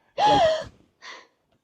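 A person gasps sharply and loudly, as a nervous passenger in an RV might, followed a moment later by a shorter, softer breath; no words are spoken.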